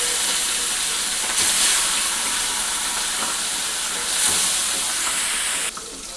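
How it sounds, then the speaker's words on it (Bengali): Fish sizzling in hot oil in a pan, a dense steady frying hiss throughout with a couple of brief louder bursts as pieces settle, close and continuous with no talking. "প্রথমে এক একটা মাছ ছেড়ে দেবো তেলের মধ্যে,"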